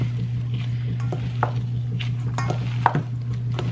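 Meatball mixture with seasoned Italian breadcrumbs being mixed together in a bowl, giving soft, irregular squishing and occasional light clinks against the bowl over a steady low hum.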